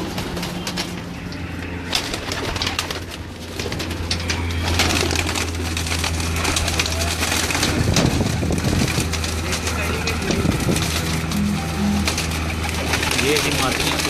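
Pigeons kept by a Pakistani pigeon fancier coo in a low, steady murmur through a loft, with someone talking over them and occasional rustling and wing movement nearby.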